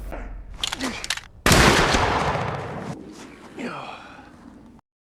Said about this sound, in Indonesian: mereka langsung saling tembak dalam waktu yang bersamaan